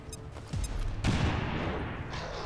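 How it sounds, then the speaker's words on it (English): A grenade explodes on a Muton in XCOM 2, a loud boom that hits after a brief lead-in and rumbles for over a second as it fades. "We're gonna drop a grenade on that Muton"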